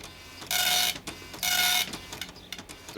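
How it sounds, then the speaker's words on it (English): A computer printer runs in two loud mechanical bursts of whirring and chattering, each about a third of a second long, with quieter clicking and shuffling between and after them. "I think the printer doesn't know how to use your new paper, Ted."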